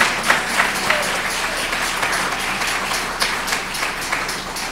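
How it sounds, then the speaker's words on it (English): An audience at a memorial tribute event applauds the organizers, a sustained round of clapping from a sizable crowd with scattered sharper claps and a light murmur of voices beneath. "So we should give a round of applause and a big shout out to the organizers"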